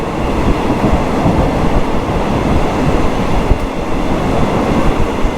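Steady, loud rumble and rattle of a long-distance train on a Thai railway, heard from on board as continuous rolling noise with faint clatter, no voices.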